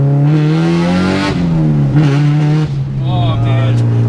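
A loud Honda engine with a K-series swap rumbling and revving close by, with a deep throaty aftermarket exhaust that rises and falls and echoes, while someone talks over it.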